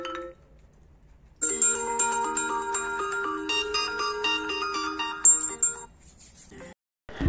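A Realme GT Master Edition 5G phone ringtone plays a bright, chiming electronic melody for several seconds after a short quiet start, then cuts off.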